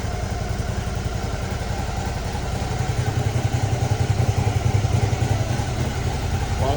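A Suzuki V-Strom DL650 motorcycle engine idles while warming up, a steady, close, low throbbing rumble with even pulses that grow slightly louder midway, with no voices.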